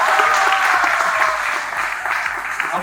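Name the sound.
audience applause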